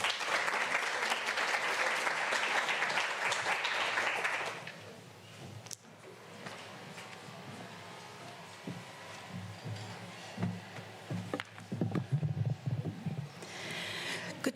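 Audience applause at an Engaged Scholarship Exhibition, a dense, loud round of clapping lasting about four seconds before dying away into quieter room murmur and scattered shuffling.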